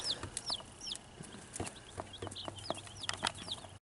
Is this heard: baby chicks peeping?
yes